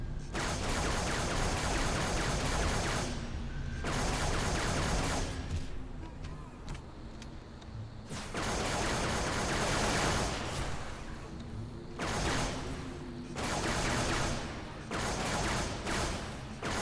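In Halo 3, long bursts of rapid gunfire roar in repeated waves, broken by short pauses with clicks and mechanical rattles of reloading between volleys.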